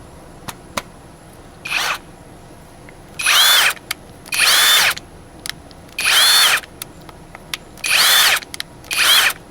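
A Harbor Freight cordless drill on a fresh battery whirs in six short, loud, close bursts with pauses between, plus a couple of softer blips and light clicks of handling.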